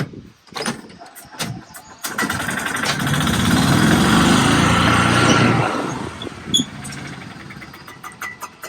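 Engine of a tuned-up Club Car Carryall utility vehicle runs close and loud, revving up and holding steady for several seconds before easing off and dropping back, with a few sharp knocks at the start.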